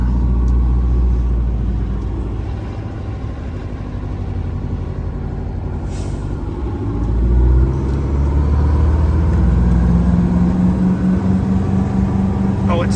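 A 1986 GMC Astro cab-over truck drives around the block, a loud, deep engine rumble close to the cab with a low steady drone that swells slightly toward the end, no talking heard.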